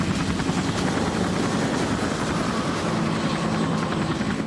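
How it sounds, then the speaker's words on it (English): A helicopter drones loudly and steadily, its rotor chop and engine whine filling the whole stretch without a break. "We hear the helicopter sound"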